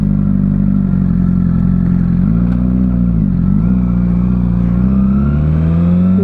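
Custom-built Suzuki GSXR 600 track bike ridden on a public road, its engine loud and close, revving with pitch dips at gear changes and then rising again toward the end, with no speech.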